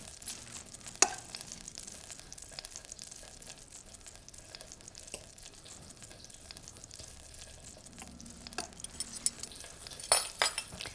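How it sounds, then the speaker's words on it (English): Flour stirred into melted butter in a pan over low heat to cook a roux: a faint, steady low sizzle with soft scraping and an occasional light clink of a utensil against the pan. "And you just dump the flour in all at once. Cook it over low heat, just for about a minute or two"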